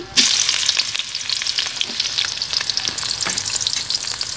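Chopped onions frying in oil with a bay leaf for a rui fish curry, a bright crackling sizzle that starts abruptly and stays dense and close throughout, with no voices.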